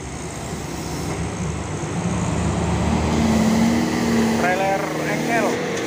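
A Fuso truck belching thick smoke strains its engine, a loud, rising diesel drone, as it fails to climb a hill. Traffic rumbles nearby and people talk over it.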